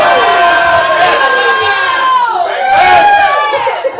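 A comedy club crowd at a roast cheers loudly, a dense sustained wash of whoops and shouts from a packed room that swells and fades slightly.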